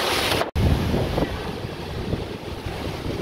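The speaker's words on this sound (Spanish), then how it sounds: "la ola que acaba de subir ahorita venía bastante fuerte y se logró meter el agua hasta este sector" Strong sea waves surge up and flood over the shore, a loud continuous rushing wash heavy with wind buffeting on the microphone, briefly cut by a short dropout near the start.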